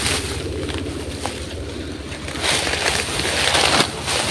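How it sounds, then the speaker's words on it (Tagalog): A motorboat engine runs on open water, a steady low rumble blended with broad wind and water noise that swells slightly louder toward the end. "May motor Brad!"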